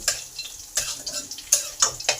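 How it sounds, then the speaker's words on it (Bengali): Bay leaves, panch phoron and dried red chillies frying in hot oil for a dal, a soft, close sizzle broken by a series of quick ticking pops and stirring scrapes. "তেজপাতা পাঁচফোড়ন শুকনো লঙ্কা ভালো করে আমার ভাজা হয়ে গেছে"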